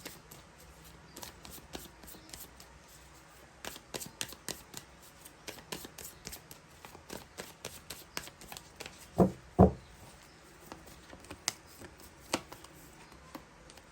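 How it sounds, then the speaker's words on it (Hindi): Tarot cards being shuffled and drawn by hand, a series of soft close taps and riffling flicks with two louder snaps partway through, no talking. "मैं सिर्फ 2 कार्ड्स लूंगी गाइस यहाँ से।"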